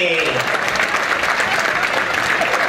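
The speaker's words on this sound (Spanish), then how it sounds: "¡El aplauso," Loud, dense audience applause at a live comedy show by Mario Fassi, a continuous wash of many hands clapping close to the microphone, unbroken from start to finish.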